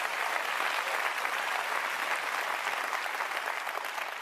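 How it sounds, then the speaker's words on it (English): Sustained applause from a live audience at an Apple launch event, a steady dense clatter of many hands clapping at the same level throughout with no talk on top. "Do not clap for that, guys."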